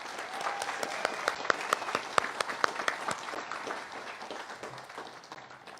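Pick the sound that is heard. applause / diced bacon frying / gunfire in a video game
applause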